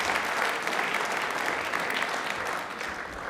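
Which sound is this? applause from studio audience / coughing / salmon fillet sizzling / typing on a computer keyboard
applause from studio audience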